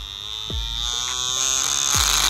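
An adjustable-stroke tattoo machine motor runs at 7 volts with a steady high-pitched electric buzz and a thin whine. The hum swells slightly toward the end, with two soft low thumps.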